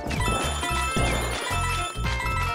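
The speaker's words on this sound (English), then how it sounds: "Another cat bell." Bright chiming notes of the cat bell power-up jingle from Super Mario 3D World ring over a dense, loud game music backing, repeating in a bouncy rhythm.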